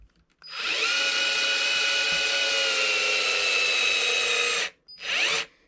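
A power drill snugs screws into an M2C Racing chassis brace on an Arrma Kraton 4S V2.5 RC truck, whirring steadily and loudly for about four seconds, then stopping briefly before a short second burst.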